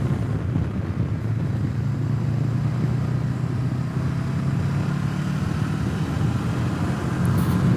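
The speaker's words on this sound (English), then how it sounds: "I'm pretty impressed by how flexible this little engine is." A 2020 Honda CB500X motorcycle's small engine hums steadily while riding, a continuous moderate drone with wind noise and no voices.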